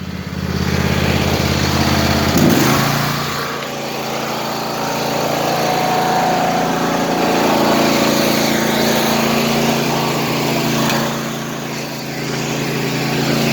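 A small gasoline engine on a Craftsman pressure washer runs loud and close at full throttle, a steady buzzing drone with a brief surge early on and slight rises and dips in pitch.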